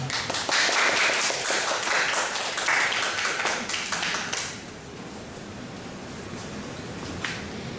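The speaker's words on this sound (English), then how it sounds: "let's welcome her with a big round of applause" A crowd claps in a burst of applause welcoming a speaker at a talk, fading after a few seconds, leaving quiet room noise.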